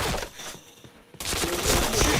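Rapid, dense bursts of gunfire from a shooter video game during a headshot kill, loud and close, a brief lull and then a renewed heavy volley of overlapping shots.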